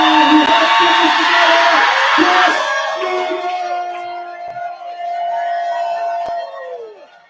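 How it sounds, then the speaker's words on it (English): A comedy roast audience screams and claps loudly at first, then the roar thins out as a voice begins speaking over the fading applause. "I want to hear you guys scream and clap as loud as you can"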